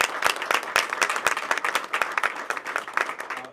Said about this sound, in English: We give a round of applause for the boys.